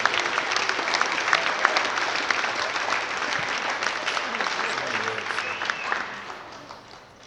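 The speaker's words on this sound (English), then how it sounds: "let's give a better round of applause for all the ladies" A crowd applauds steadily with dense clapping throughout, fading slightly toward the end.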